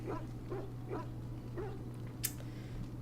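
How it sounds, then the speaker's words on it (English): A dog in the Dragon Age Origins video game gives a few soft, repeated whimpering barks, quiet and evenly spaced over a steady low hum. "Talk to the doggy, yellow doggy."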